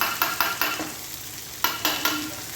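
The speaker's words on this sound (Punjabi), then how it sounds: "ਪਿਆਜ਼ ਆਪਣੇ ਜਿਹੜੇ ਚੰਗੀ ਤਰ੍ਹਾਂ ਭੁੱਜ ਚੁੱਕੇ ਆ ਆਪਾਂ ਇਹਨਾਂ ਨੂੰ ਐਂ ਭੁੰਨ ਹੈ" Onions frying in a pan for a Punjabi ridge gourd (tori) curry, with a steady sizzle under sharp, repeated scrapes of a spoon stirring against the pan, close and alone.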